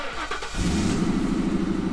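A New Edge Ford Mustang, 22 years old and without catalytic converters, fires up after a brief crank and settles into a loud, deep, rumbling idle close by.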